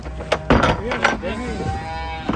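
Cattle and water buffalo being unloaded from a tilting truck give a few close moos with harmonic calls, mixed with handling noise and voices talking nearby.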